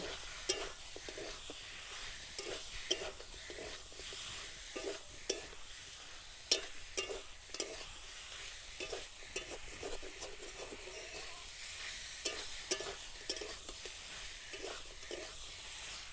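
Chicken sizzling in a hot pan with cumin powder and garam masala, with intermittent stirring and scraping, crackling steadily throughout at moderate volume, no talking.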